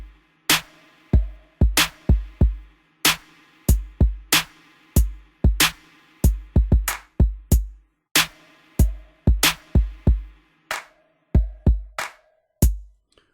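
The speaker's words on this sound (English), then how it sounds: "you'll notice that I have a drum beat here" Slow down-tempo drum beat from the VIPSL OVO HD drum kit: sharp, punchy hits with deep low thumps in a steady, spacious loop, loud and dry with quiet gaps between strikes, no voices.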